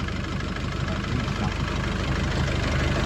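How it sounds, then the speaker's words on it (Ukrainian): A car engine idles steadily on a cold start with a low, even rumble and faint knocking texture, close by and continuous throughout. "Отак двигун на холодну працює"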